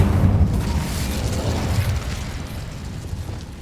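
Incendio fire spell cast in Hogwarts Legacy, a burst of low booming fire that rumbles steadily for a few seconds, loud and close with no talk.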